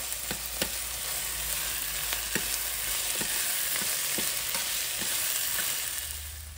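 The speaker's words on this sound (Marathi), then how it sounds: "आशाने आलं लसूण पेस्ट टाकली थोडी आणि ती सुद्धा चांगली फ्राय होऊन द्यायची" Ginger garlic paste frying in an air fryer, a steady bright sizzle with occasional soft clicks and stirring taps, close and even, no talk.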